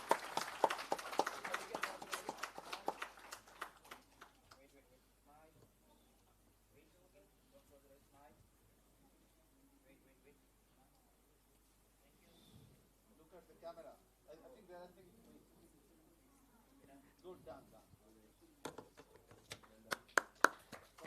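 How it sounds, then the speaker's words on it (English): An audience applauds the second runners-up at a voice technology challenge event in Bangalore. Clapping is strong at the start and fades, a voice speaks over the quiet middle, and the applause swells again near the end. "Let's give a huge round of applause to the second runners-up."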